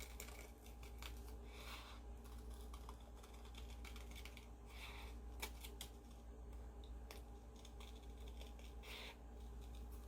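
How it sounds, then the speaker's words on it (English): Scissors snipping paper along a curved line, a faint series of short crisp cuts with irregular rhythm over a steady low hum, no talking. "I'm going to use my scissors to follow the curved line."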